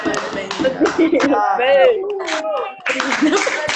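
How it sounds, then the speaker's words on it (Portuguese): A classroom bursts into scattered clapping after a birthday song, the claps mixed with children's singing and chatter, loud and close, fading briefly before picking up again. "cadê suas palmas?"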